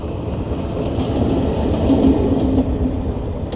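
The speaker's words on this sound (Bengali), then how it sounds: "সামনে কি আবার ও ট্রেন আসতেছে" A train rolls by close up: a loud, steady rumble with rattling wheels and clatter, and no one speaking.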